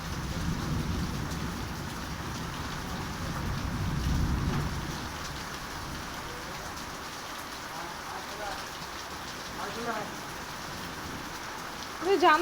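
Steady rain falling on surfaces, a dense, continuous hiss that is heavier early on, with a person talking faintly near the end.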